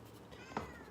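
A single short, faint meow from a house cat, brief and close in an otherwise quiet room.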